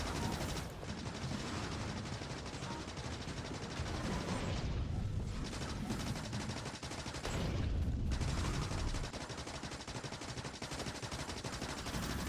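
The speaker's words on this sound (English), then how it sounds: "Turns out those bases explode way more than I thought." Biter bases exploding amid constant machine-gun fire in the video game Factorio, a dense, continuous wall of rapid shots and blasts at steady loudness, with brief dips in the middle.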